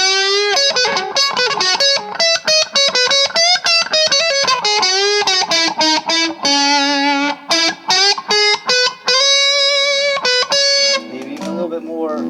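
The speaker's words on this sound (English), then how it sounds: "so I want full on distortion." An electric guitar through a fully dimed distortion pedal plays a heavy riff with sustained, saturated notes and chugging stabs, loud and close, before trailing off into a softer lower tone at the end.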